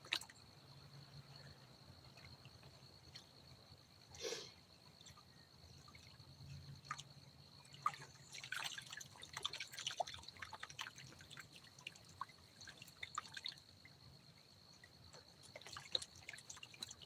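Water running and dripping as it rinses clay off material, with intermittent trickles, splashes and soft squishy sounds at close range, a faint steady hum underneath.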